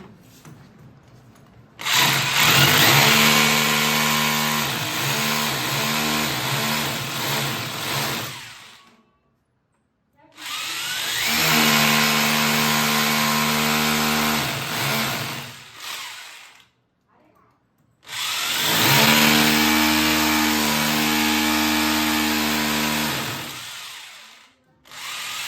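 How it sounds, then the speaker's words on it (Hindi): A power drill bores holes into a wall to mount a dish TV antenna, in three long bursts of loud whining motor noise separated by short pauses, close by. "तो ड्रिल मशीन से जो है ना उस जगह पे हम ड्रिल कर लेंगे सबसे पहले नंबर।"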